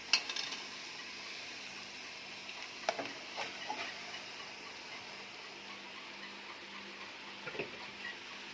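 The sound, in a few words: chicken pieces added to hot oil, sizzling and stirred for biryani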